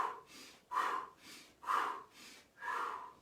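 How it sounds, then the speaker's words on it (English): Deep, slow breaths during a chakra breathing exercise, four audible inhale and exhale cycles in an even rhythm, close and soft, with no talking. "So nice deep breath one more time."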